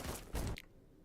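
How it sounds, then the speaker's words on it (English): Gunfire in the video game Black Skylands: a loud burst of rapid shots lasting about half a second, then cutting off abruptly into near silence. "Gunfire is indeed loud."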